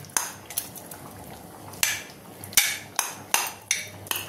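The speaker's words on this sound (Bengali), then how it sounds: "এবার আমি এই আলুটা আমি ম্যাশ করে দেবো।" Boiled potato being mashed into ghugni in a pot, sharp metallic clanks of a utensil striking the pot in an irregular series, growing into a steadier rhythm of knocks toward the end.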